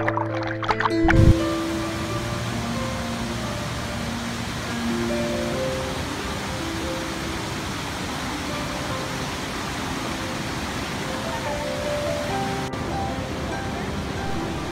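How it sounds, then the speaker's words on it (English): Dharamattam waterfall near Narsipatnam, India, roars with a constant, enveloping rush of falling water. A short tonal sound is heard at the very start. "this waterfall is so good and I really loved it."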